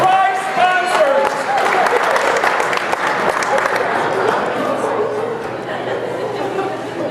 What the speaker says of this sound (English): One more round of applause for our contestants.